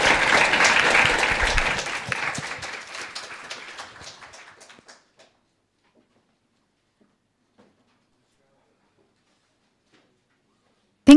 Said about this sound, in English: let us applaud again for Professor ÖQUIST